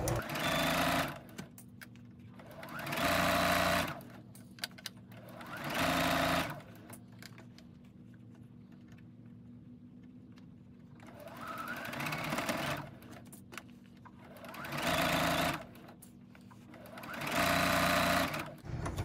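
A sewing machine stitches a fabric pouch for double-pointed needles or reusable straws, running in several steady bursts with quieter pauses between, close and clear.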